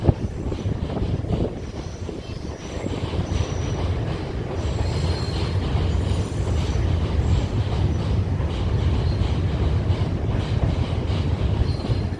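A goods train rolling through Vijayawada Junction on the main line, a loud continuous rumble of wagons with wheel clatter and faint squeals, close and unbroken for the whole stretch, no talk.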